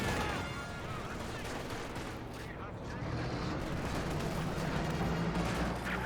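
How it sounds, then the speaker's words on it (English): Sustained battlefield gunfire from Grenadier squads in Company of Heroes 2, a dense, continuous crackle of rifle and machine-gun shots with distant booms, steady and loud throughout with no pauses. "Conscripts taking some fire there from the Grenadiers."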